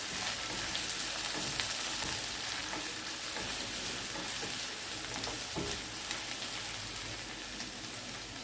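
Ginger-garlic paste sautéing with onions in a pan for a home chicken gravy, a continuous close sizzle with crackling spatters and occasional stirring clinks, no voices.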